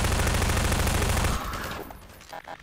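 Dense, continuous gunfire in a video game rolls loudly for over a second, then drops to scattered quieter shots and clicks.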